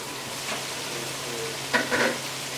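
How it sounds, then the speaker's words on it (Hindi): Ground cumin and coriander roasting in oil in a pan for kala chana masala, a low steady sizzle with faint stirring and a couple of brief louder scrapes toward the end. "अभी यहाँ पे अब इन मसालों की जो है वो अच्छे से हम भुनाई कर लेते हैं।"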